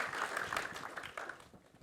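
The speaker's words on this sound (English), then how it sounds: "If I could have a quick round of applause again for our panelists here" Applause from a conference audience for a panel of speakers at a marketing event, a brief, steady wash of clapping at moderate level that thins out toward the end.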